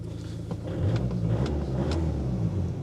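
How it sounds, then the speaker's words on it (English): An Audi A3 with 160,000 miles, a diesel with glow plugs, idles steadily up close, a low continuous rumble with slight swells and no talking. "Engine sounds alright, actually."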